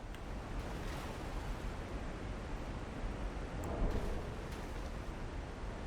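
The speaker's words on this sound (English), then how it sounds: "Oh yeah, there's a waterfall." A waterfall in Liurnia of the Lakes in the Elden Ring video game gives off a steady, full rushing roar of falling water. It stays even and continuous throughout, with a slight swell near the middle.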